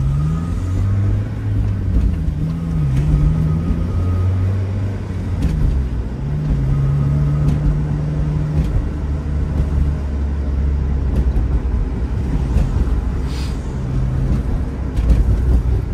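A Mazda Miata NA's engine hums steadily while driving, heard with a window open, with low tonal drone shifting slightly in pitch as speed changes; no voices.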